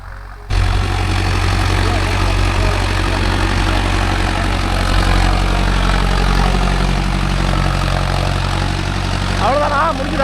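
A diesel vehicle engine starts and settles into a steady, loud, low-pitched idle that runs evenly throughout, with brief faint chatter near the end.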